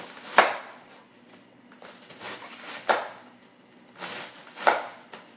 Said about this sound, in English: And so to cook it, I'm going to cut it a little bit smaller.